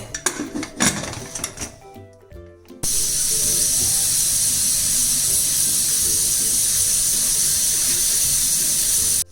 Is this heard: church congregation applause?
no